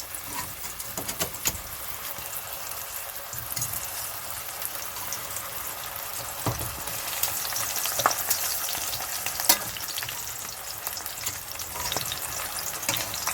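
Seasoned eggplant slices fry in hot oil for a Sicilian vegan pasta dish, giving a steady, close sizzle with crackling pops throughout and no talking.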